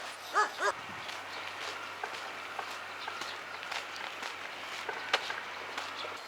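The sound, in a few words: dog barking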